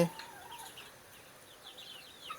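Native village chickens clucking softly at a distance, with scattered chirpy calls over a steady outdoor hiss, no voices.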